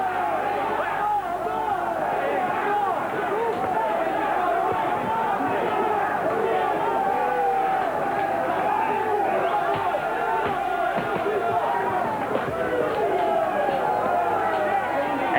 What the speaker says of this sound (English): Crowd, though, getting behind Sanavia.